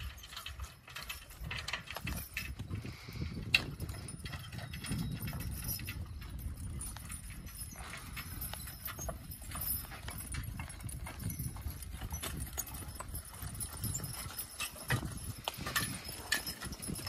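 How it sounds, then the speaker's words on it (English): A pair of young Belgian draft horses clip-clopping steadily while pulling a half load outdoors, with continuous hoof beats at a moderate distance and faint jangling of harness throughout. "horses are acting pretty good so far."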